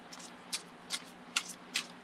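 Tarot cards are shuffled in short, soft riffling bursts, about four quick swishes spaced evenly, close and fairly quiet.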